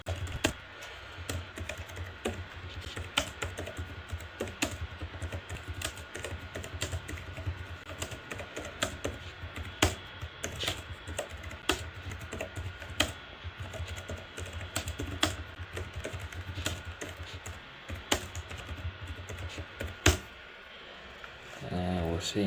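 Steady clicking of keys on a computer keyboard, close and fairly quiet, typing continuously in an irregular rhythm for about twenty seconds before stopping near the end.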